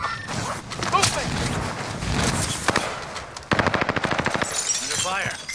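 Bursts of rapid gunfire in a battle royale-style video game, scattered shots early, then a sharp, evenly spaced volley near the end, mixed with game voice lines and ambient noise.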